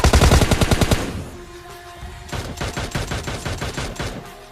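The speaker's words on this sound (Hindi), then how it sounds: "अब यहाँ पर आते के साथ जो मेरा पहला शॉट कनेक्ट होता है" Rapid automatic gunfire from PUBG Mobile Lite, a loud close burst of evenly spaced shots followed by a brief pause and a second, slightly softer string of rapid rounds.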